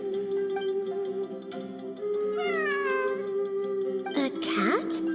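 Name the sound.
cat meowing in the video game Genshin Impact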